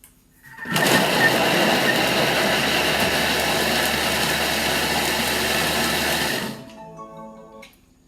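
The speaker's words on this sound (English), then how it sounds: "we're just going to chop that all up for 5 seconds" A Thermomix blade chops tomatoes and garlic in one loud, steady whirring burst of about six seconds that starts and stops abruptly, with a quiet tail afterward.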